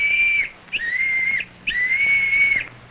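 A small whistle is blown three times, each a shrill, steady tone of roughly a second, with brief pauses between them and nothing else heard.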